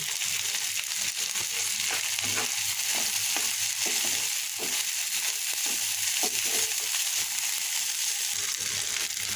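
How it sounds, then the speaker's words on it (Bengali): Shrimp sizzles steadily in hot oil with radhuni spice, a dense continuous frying hiss broken by regular scraping and stirring knocks from a spatula in the pan, close and fairly loud. "চিংড়ি মাছটা ভালোভাবে কষিয়ে নিয়েছি"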